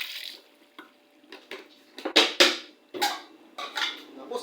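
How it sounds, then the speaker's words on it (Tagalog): A ladle stirring kilawen, beef skin soaked in a gallon of white vinegar, in a metal pot in Pangasinan: irregular scraping and clinking strokes with wet sloshing, close and fairly quiet, several sharper knocks in the middle. "tapos haluin ko ulit"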